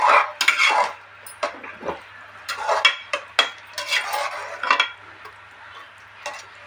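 Tomato bath mixture stirred in a pan, with a spoon clattering and scraping against the metal in irregular bursts, close and fairly loud, with a faint sizzle underneath.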